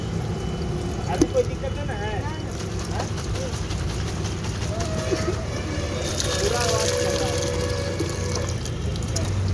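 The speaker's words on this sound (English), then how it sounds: "So we will clean it, this tank also. So for that we will shake it and we will rinse it." Water sloshes and splashes continuously as a car coolant tank is shaken and rinsed, close by, with a voice faintly murmuring in the background.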